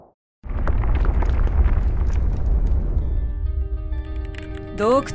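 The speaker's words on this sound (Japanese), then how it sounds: "これは核爆発です" A nuclear explosion erupts with a sudden deep roar that sustains as a loud, rumbling blast and slowly thins out, followed by rising electronic warbling tones at the end, all within a dramatized sci-fi scene.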